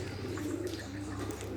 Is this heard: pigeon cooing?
yes